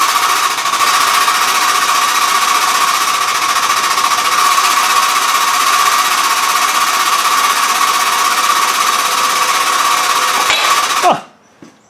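A press pushes a wheel bearing out of a Land Rover Defender front hub, with a socket used as the drift. It makes a loud, steady mechanical drone for about eleven seconds, then stops abruptly with a sharp clack.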